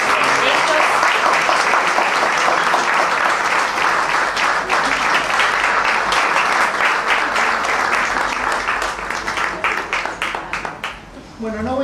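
Sustained audience applause after a chamber music concert at a social club, many hands clapping loudly and evenly before thinning into scattered claps near the end.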